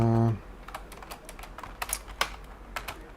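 Typing on a computer keyboard through a virtualized macOS session, a brisk irregular patter of close key clicks following a brief voice at the very start.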